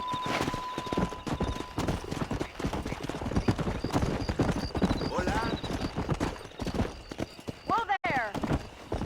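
Horse hooves clip-clopping at a gallop in the Western video game Red Dead Redemption, steady rhythmic beats throughout with a brief whinny, mixed under game music and voices talking.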